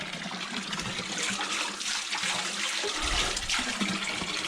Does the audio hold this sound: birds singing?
no